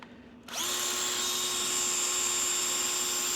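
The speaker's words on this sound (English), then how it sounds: "I'll catch you in a minute once I've done a bit of drilling." A small power drill bores holes for a motorcycle light bracket on a Honda Africa Twin, spinning up after half a second into a steady, close, high whine that holds to the end.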